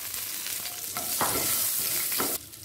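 Paneer pieces frying lightly in ghee in a pan, a soft continuous sizzle with occasional stirring scrapes and clinks, close and fairly quiet, no voices.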